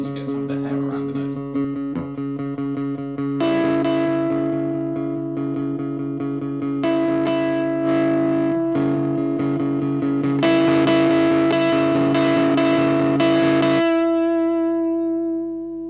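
Electric guitar played through a Danelectro FAB Overdrive pedal set to low gain, sustained chords and ringing notes with a light, slightly hairy edge, strummed in several bursts and left to ring out between them.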